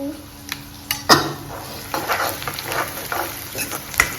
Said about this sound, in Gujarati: લસણ મરચાં ટમાટું ફ્રાય કરું છું